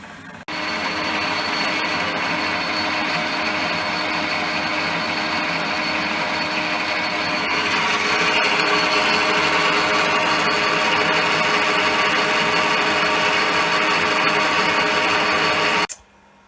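A Myford 7x7 metal lathe spindle running at about 900 RPM gives a steady, loud mechanical whirr and hum with a faint underlying clunk, continuous for the whole stretch before cutting off abruptly.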